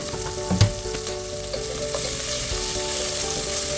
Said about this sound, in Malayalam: സവോള ചേർത്തിട്ട് നമുക്കൊന്ന് വഴറ്റി കൊടുക്കാം